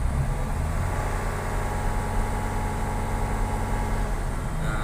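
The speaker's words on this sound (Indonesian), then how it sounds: "Jadi kita panasi sambil injak-injak sedikit gasnya agar cepat panas" A large engine warming up with light throttle blips, giving a steady, loud, close rumbling idle with slight rises and falls in intensity throughout, no speech.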